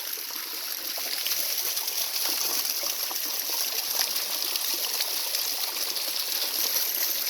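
Drinkable spring water flows near a waterfall at Cachoeira da Ferrugem, making a steady, close trickling and splashing that continues without pause.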